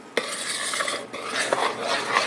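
Batter being stirred in a bowl after milk is added, a brief run of close scraping, swishing stirs with light clinks of a utensil against the bowl, no talking.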